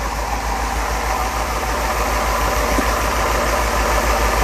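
A car engine with a badly rebuilt fuel distributor idles nearby with cylinders being shut down one by one, giving a loud, continuous uneven rumble with a rough pulsing low throb.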